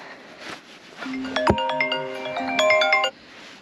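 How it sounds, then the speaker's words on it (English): A mobile phone ringtone plays outdoors at a viewpoint at sundown, a bright melodic pattern of short chiming tones repeating for a few seconds, fairly loud and close, then stopping abruptly. "my phone starts ringing"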